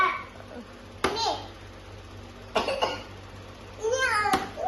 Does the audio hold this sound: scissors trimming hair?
no